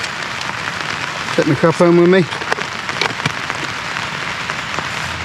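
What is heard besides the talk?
rain falling on a tarp shelter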